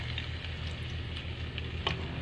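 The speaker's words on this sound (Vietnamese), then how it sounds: "cho hành với lại tỏi mình phi cho nó vàng nó thơm" Minced garlic and shallots fry in hot cooking oil in a pan for chicken with lemongrass and chili, a faint, steady sizzle with a few soft stirring clicks.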